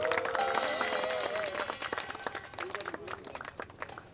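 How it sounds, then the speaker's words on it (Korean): Audience applause at a Korean peace rally, a burst of clapping from the crowd that starts strong and tapers into scattered claps, heard beneath a speaker's amplified voice. "박수 한번 주십시오."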